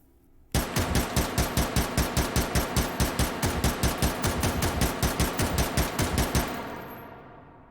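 Rapid string of semi-automatic shots from a Mini-14 GB rifle in the VR game H3VR, about thirty sharp, evenly spaced cracks fired in quick succession, loud and close, ending with a fading echo.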